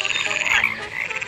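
Frog croaking in a rapid, repeated rattling call, loud and close throughout, as a sound effect in a read-aloud of the picture book Brown Bear, Brown Bear by Bill Martin Jr. and Eric Carle.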